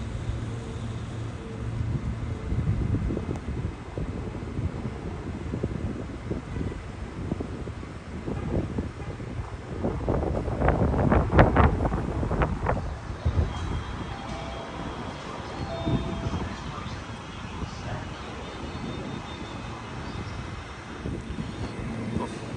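Wind blows outdoors at a Brisbane station, rumbling and buffeting in gusts with a stronger surge midway, mixed with a distant whooshing drone.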